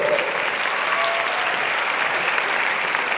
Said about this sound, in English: you did just get a standing ovation